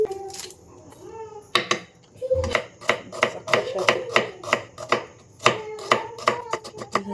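Sharp new kitchen knife chopping onions on a board in a small home kitchen, a quick run of crisp, evenly spaced cuts, close by, with some voices and faint clatter around it.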